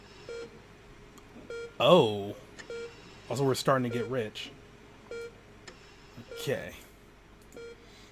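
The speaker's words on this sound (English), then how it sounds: "The rhythmic beeping of the heart monitor brings you slowly back to consciousness." A heart monitor in Not for Broadcast beeps at a steady, regular pace, short electronic tones spaced evenly and fairly quiet, with a person talking over parts of it.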